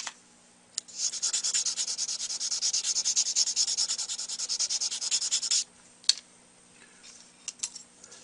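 Rapid rhythmic back-and-forth sanding with a fine, curved pad, close and steady for several seconds, followed by a few isolated scrapes and taps.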